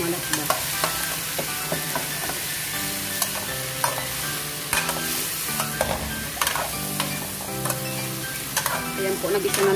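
Vegetables for ginataang kalabasa at sitaw sauté in a hot pan, a steady sizzle with repeated scraping stir strokes and clinks throughout, close and fairly loud with no talk.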